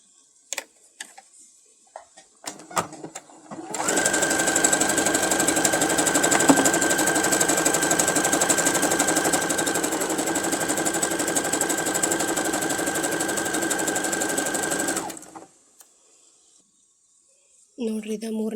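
A sewing machine runs a number 3 decorative stitch design in one steady, continuous burst of mechanical whirring for about eleven seconds, loud and close, with brief handling clicks before and after.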